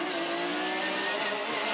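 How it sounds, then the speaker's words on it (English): A Porsche 911 GT3 R race car accelerates hard on the Adelaide street circuit during an Australian GT race, its engine roaring loud and steady from onboard with a rising, continuous note. "Getting on the throttle here, you can't rush the throttle up over that curb."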